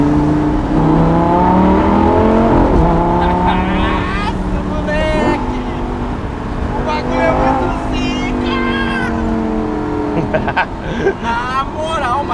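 A Lamborghini's engine roars as it accelerates on a road, its revving pitch climbing through repeated gear sweeps, loud and close, with people talking over it.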